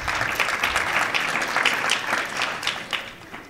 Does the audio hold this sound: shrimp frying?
no